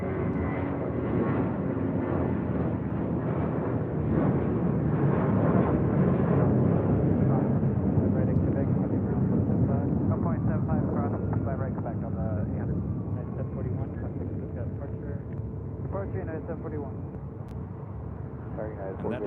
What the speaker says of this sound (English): And that is Spirit Airlines Flight 2322 coming in from Newark on this A320